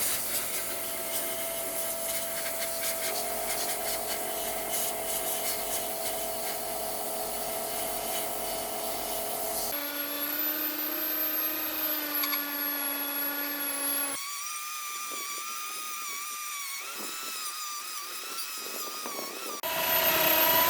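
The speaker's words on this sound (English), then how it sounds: "we're going to be sandblasting in our little cabinet" Car brake parts from a Rover 45, such as the hub and nuts and bolts, are sandblasted in a small cabinet, producing a continuous loud, close hissing roar with whining tones that shifts in character a few times.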